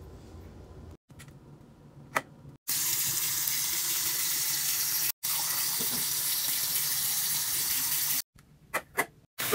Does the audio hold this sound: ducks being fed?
no